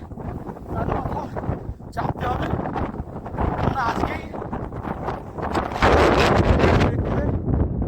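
Strong wind sweeps across the Khopra Ridge on a Nepal mountain trek, a continuous gusty rumble buffeting the microphone and swelling louder near the end, with someone talking over it throughout.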